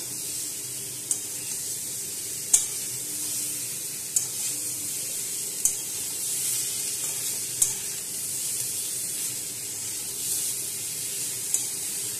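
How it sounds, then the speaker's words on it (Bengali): A Bengali fish curry sizzling steadily in a pan over a high gas flame, with a continuous close hiss and occasional sharp taps of a spatula against the pan as it is stirred, no voices. "তো গ্যাসের ফ্লেমটা একটু হাই করে দিয়ে ভালো করে নাড়াচাড়া করে নেব।"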